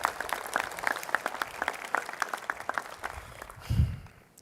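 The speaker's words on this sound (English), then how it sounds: "please join me in giving them a round of applause" Audience applause at a university presidential investiture, a room full of clapping with distinct nearby claps standing out in an irregular rhythm, then a brief low rumble near the end.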